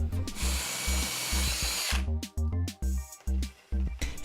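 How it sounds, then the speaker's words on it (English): An electric drill boring holes into wooden Christmas tree shelves, first a long continuous whir, then a series of short, loud, evenly spaced bursts of drilling close by with brief pauses between. "I drilled a hole next to each shelf and fed the cord through to hide them on the back."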